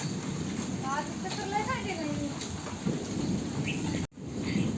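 Steady rainfall with a low rolling rumble of thunder underneath, and faint birds chirping in the background; continuous and moderately loud.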